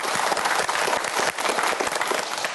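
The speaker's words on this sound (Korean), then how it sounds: "마지막으로 큰 박수 보내주시기" Studio audience on a televised science quiz show gives a brisk round of applause, dense clapping continuing evenly from start to finish.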